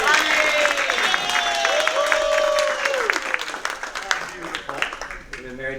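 Audience applause and crowd noise at a talk on communication between men and women, a steady dense patter of clapping that fades toward the end, with a voice speaking over it.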